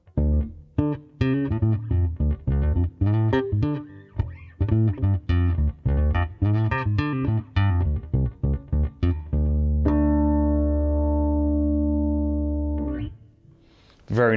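Bass guitar played fingerstyle through a Hughes & Kettner pedal switched off, a busy run of deep plucked notes ending on a long sustained note that fades out, close and loud.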